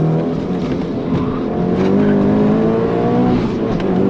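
Onboard roar of a Mitsubishi Evo race car powering through a corner, engine note climbing steadily and loud, close and continuous with a slight tire-scrub edge.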